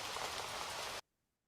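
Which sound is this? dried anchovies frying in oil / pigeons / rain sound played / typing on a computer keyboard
rain sound played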